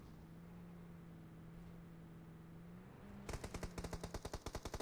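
Gunfire in a competitive video game scrimmage match, a quiet hum with a low engine-like tone, then a sudden rapid burst of automatic fire rattling in quick even rounds to the end.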